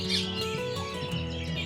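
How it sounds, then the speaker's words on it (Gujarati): Birds chirp in the calm grounds of a 1000-year-old Somnath Mahadev temple at Gyaspur, near Ahmedabad. A few soft, brief calls sit over a quiet, steady background. "પક્ષીઓનો કલરવ"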